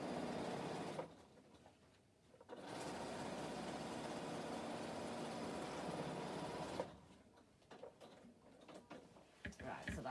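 A sewing machine stitches straps onto the back of a bag in steady whirring runs, a short burst and then a longer stretch, separated by pauses with small clicks and handling noises.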